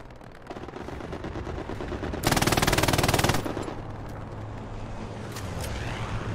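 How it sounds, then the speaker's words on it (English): Machine gun fire from an MG defending the last point in the World War II shooter Hell Let Loose, a loud rapid burst of about a second alone amid scattered distant gunfire and ambient battle noise. "he uses an MG to try and defend the last point"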